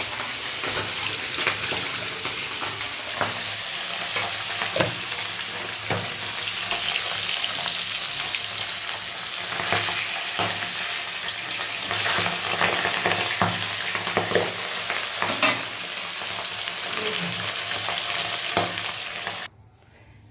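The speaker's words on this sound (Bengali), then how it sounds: "চলো মাছগুলো এবার ভেজে নিই অল্প অল্প করে" Pabda fish frying in hot oil, a continuous loud sizzle close by with scattered spatula scrapes and taps throughout, cutting off abruptly at the end.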